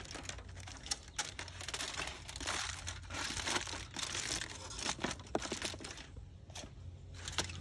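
A flat sheet of tin foil is crumpled and folded by hand around a tissue box for a classroom art project, close and continuous crackling and crinkling with irregular sharper crunches.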